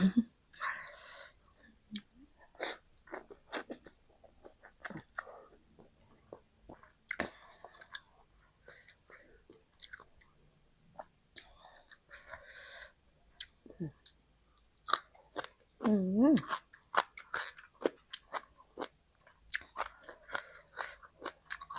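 Someone chews a crunchy, spicy sea lotus salad close to the mic, with repeated crisp bites and wet crunches in irregular bursts, broken by faint murmured sounds.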